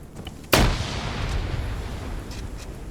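A video game explosive charge goes off with one sharp, loud blast, followed by a long rumbling decay under faint background game noise.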